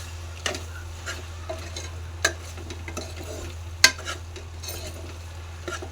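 Spices stirred into a Telangana-style boti curry in a pan, a soft sizzle running underneath with a few sharp clinks of a spoon against the vessel.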